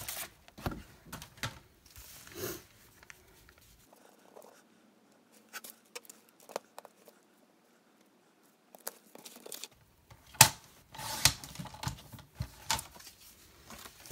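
Paper being cut to size for a Happy Planner page strip, with brief crisp snips and rustling bursts at the start and again near the end, separated by a long quiet stretch, recorded close by with no talking.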